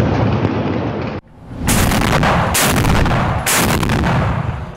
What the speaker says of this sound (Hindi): ताबड़तोड़ फायरिंग से गूंजा इलाका,